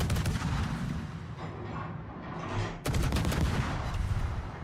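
Naval shells from World of Warships hitting enemy ships, a dense continuous barrage of loud booming impacts and gunfire, with a sharp burst of heavier hits partway through.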